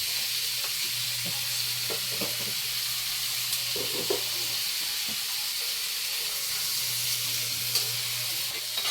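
Meat added to a pan with eggplant, string beans and squash for a sautéed pinakbet-style vegetable dish, giving a steady hiss of frying with a few soft stirring knocks and a low hum, fairly close, no voices.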